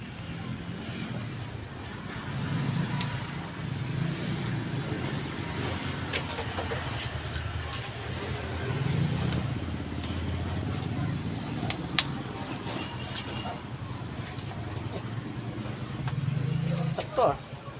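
Traffic on a main road heard from a rooftop garden in the Philippines: a continuous low engine rumble with swelling passes of cars and motorbikes, faint clicks and knocks scattered on top.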